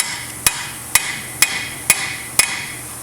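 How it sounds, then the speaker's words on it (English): Five evenly spaced, sharp metallic hammer blows strike a chisel driven against a seized front wheel bearing race on a 1994 Ford Explorer, each ringing briefly, close and loud over a quiet background. "now you can take a chisel, and it might take a minute to kind of unseize them"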